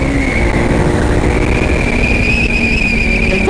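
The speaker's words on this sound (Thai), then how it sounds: "ขับเร็วมาจังวะ" A group of motorcycles ridden fast on the road, a loud sustained engine roar with a steady whining tone and rushing wind noise, continuous throughout with no voices.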